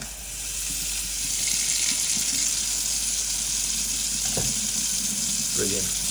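A repaired kitchen tap runs steadily into the sink, a constant broadband hiss of flowing water that holds from start to finish, with a couple of faint clunks in the background.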